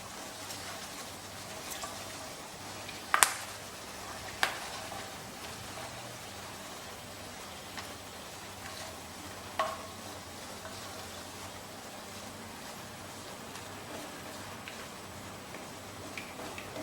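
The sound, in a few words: cloves frying in a pan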